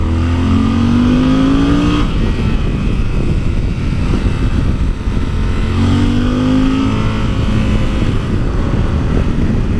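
A Yamaha Super Ténéré motorcycle engine roars loudly and steadily while ridden off-road, rising in pitch as it accelerates through gears, with heavy wind rush throughout and no talking.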